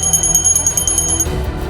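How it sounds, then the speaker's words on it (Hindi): Small bells ringing at a temple during the Mahakumbh in Prayagraj, a rapid, steady, bright metallic chiming that stops abruptly partway through, with a low rumble of a crowd beneath. "इस आस्था के आगे मंदिर, मंदिरों में घंटियां,"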